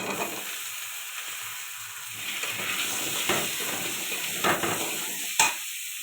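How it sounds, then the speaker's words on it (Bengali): Potatoes fry in the hot oil left from frying prawns, giving a steady loud sizzle and hiss with occasional stirring scrapes and a sharp clink near the end, no voices. "ওই তেলে আলুগুলো ভেজে নেব"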